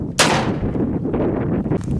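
A Pietta 1860 Army black powder revolver fires a single loud, close shot with a sharp crack, followed by a long rumbling boom that fades outdoors.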